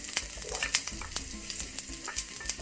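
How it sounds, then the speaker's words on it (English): Onions and garlic fry in a pan for sweet and sour prawn noodles, a close, crackling sizzle punctuated by sharp spatters and pops, with no talking. "I'm going to add my onions. And I'm going to add garlic."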